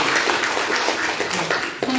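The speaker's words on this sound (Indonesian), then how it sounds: "tepuk tangan untuk kakak wakil bupati" Audience clapping for a deputy regent at an evening public gathering, a dense wash of many hands applauding steadily throughout, fairly loud and close.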